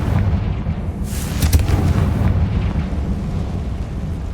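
A Confringo spell detonates in Hogwarts Legacy, a heavy explosive boom with a sharp blast in the middle and a rumbling low roar that carries on for several seconds.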